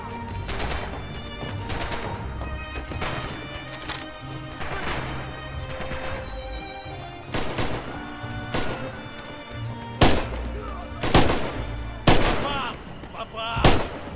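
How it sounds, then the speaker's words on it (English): Large-caliber gunfire in Red Orchestra 2 set in June 1941: a series of loud, sharp booming shots at irregular intervals, growing denser and heavier toward the end, over low background noise. "I'm shooting a much larger caliber, I can tell you that now"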